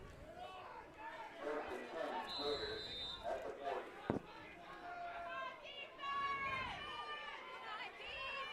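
A high school football crowd in the stands at Port Allegany versus Keystone, a broad murmur of chatter and scattered shouts from a distance, with one sharp bang, under a commentator talking.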